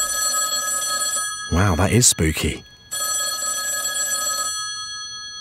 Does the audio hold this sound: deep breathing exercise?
no